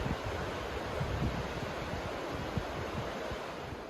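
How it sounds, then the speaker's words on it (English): The Smith River's flowing water, a steady broadband rush of moving water mixed with some wind noise on the microphone, continuous and fairly close with no talking. "this is the Smith River."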